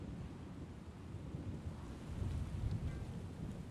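Steady rain falls with a deep thunder rumble rolling beneath it, swelling slightly toward the end, with no voices.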